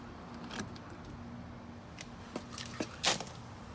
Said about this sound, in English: Let's unlock it real quick. Keyless entry. Nice unlock Detroit sound.